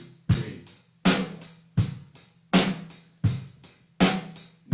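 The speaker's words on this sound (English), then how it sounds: "is playing alternating of bass drum, then snare drum by itself, bass drum, snare drum" A drum kit plays a basic beat that alternates bass drum and snare drum, with six evenly spaced, punchy hits ringing out alone in a steady back-and-forth rhythm.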